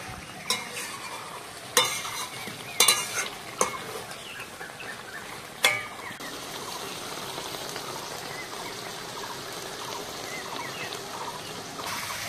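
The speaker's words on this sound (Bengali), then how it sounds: "চিকেন আর আলুটা বেশিক্ষণ কষবো না, জাস্ট চিকেনটার গায়ে মশলাটা একটু লাগিয়ে দেবো" Chicken and potatoes being stirred with spices in a pan for paturi biryani: a steady close sizzle of frying runs throughout, and a few sharp scraping clinks of the spoon against the pan come early on.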